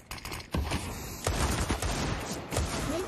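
Rapid bursts of automatic gunfire crackle through a professional Counter-Strike: Global Offensive match, several clustered volleys at moderate volume.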